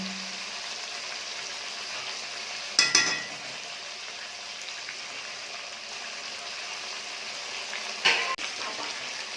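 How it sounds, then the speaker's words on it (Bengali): A pan of pabda fish in mustard curry simmers with a steady soft bubbling hiss, broken twice by brief clanks of a utensil. "টক টক করে করে ফুটছে"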